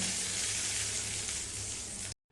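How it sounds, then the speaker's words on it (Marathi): A loud, continuous sizzle of hot tempering oil poured onto chutney, bright and hissing throughout, stopping abruptly at the end. "आता गरम फोडणी चटणीवरती घालूया"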